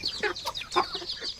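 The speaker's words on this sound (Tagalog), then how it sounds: "Ito naman yung ating bagong baba na sisiw." Farmyard chickens and newly hatched chicks cluck and peep in quick, irregular bursts, fairly close but soft, with no talking over them.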